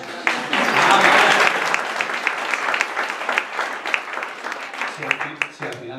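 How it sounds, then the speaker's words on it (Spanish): Audience applause at a live Spanish stage show, a full burst of clapping that peaks early and then thins into scattered claps over about six seconds, with voices faintly mixed in. "Yo creo que teníamos que aplaudirles,"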